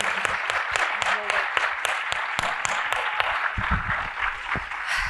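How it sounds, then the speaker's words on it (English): A small audience gives a round of applause, with distinct claps sounding fairly sparse and uneven over a low murmur of voices. "Give us a round of applause"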